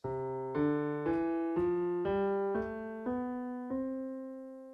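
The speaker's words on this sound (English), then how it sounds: "A major scale is the most common scale people know." A major scale played note by note on a keyboard, eight clear evenly spaced tones stepping steadily upward, each held briefly, no voices.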